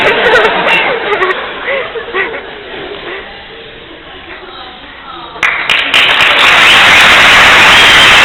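Audience applause erupts at a geology graduation ceremony at USP, following a stretch of a voice speaking over a murmuring hall. The clapping swells loud and dense near the end.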